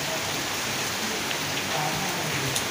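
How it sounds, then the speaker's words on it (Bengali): Heavy evening rain pours down outdoors in a steady, dense downpour, an unbroken close hiss of drops hitting surfaces with no voices. "প্রচুর বৃষ্টি হচ্ছে বাইরে।"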